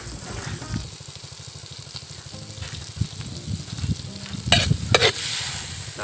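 Butter sizzles in a pan while cooking outdoors, a steady frying crackle with stirring scrapes and a few sharp utensil clanks near the end.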